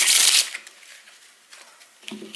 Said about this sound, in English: And now we'll mix the cards just sometimes.